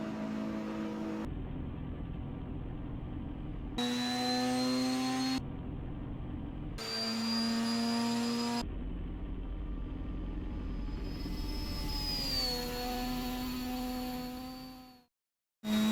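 A blue Mitsubishi Lancer Evolution driving on a highway at night, its engine revving through rising gear pulls with clear tonal whine, loud and close, before cutting off near the end.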